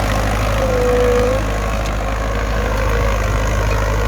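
A Ford tractor engine drones steadily while plowing a rice field, a loud, close, low rumble that holds constant throughout with no talk.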